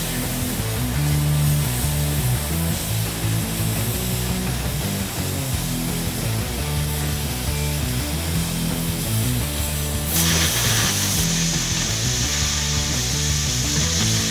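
An oxy-fuel cutting torch preheats half-inch steel plate and then pierces it, making a loud, steady roaring hiss that turns brighter and harsher in a burst near the end.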